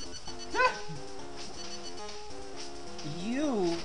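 Yipping, whining bark of a laser dog in the Flying Warriors video game, a few rising and falling cries amid game music and other sound effects, with a person talking over it.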